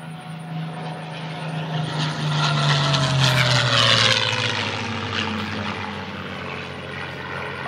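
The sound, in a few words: P-51 Mustang propeller aircraft flyby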